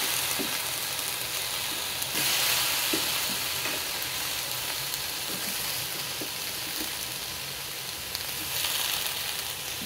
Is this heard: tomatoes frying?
yes